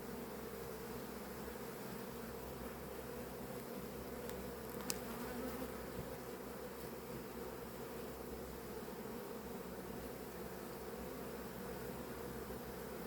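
Honey bees buzz around an open hive: a dense, continuous drone of many wings, close and steady, with no voices.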